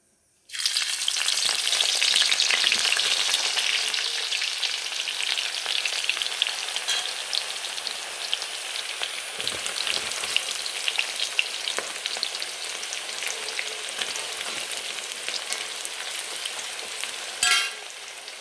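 Thinly sliced onions dropped into hot ghee for mutton biryani, a sudden loud sizzle that settles into a steady crackling fry, with occasional stirring scrapes and a louder flare near the end, no voices.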